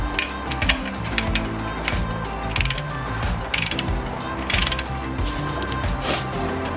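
A torque wrench tightens Subaru engine bolts in a crisscross pattern and clicks at its set torque, giving scattered metallic ratchet-like clicks over a steady, dense background hum.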